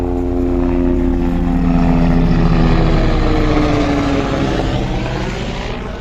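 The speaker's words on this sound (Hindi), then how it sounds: "देखिए हेलीकॉप्टर भी जा रहा था।" Helicopter passing over a sugarcane field, a loud, steady rotor drone with throbbing engine tones that holds strong through the middle and fades slightly toward the end, with no talking.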